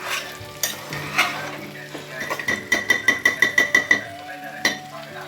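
Food is stirred and slow-fried in a pan at home. A soft sizzle runs underneath, with a quick run of about ten rhythmic spatula scrapes and clinks against the pan near the middle and scattered knocks around it.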